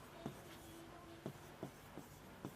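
Chalk or marker writing on a board during a chemistry lecture: several short scratchy strokes at irregular intervals, fairly faint and close, over a low room hum with no talking.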